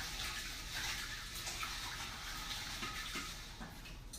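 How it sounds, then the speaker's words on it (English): Water gushes steadily as rice is rinsed in a pot during a home cooking demonstration, a continuous close splashing wash with no pauses. "We're going to rinse the final rinse on our rice."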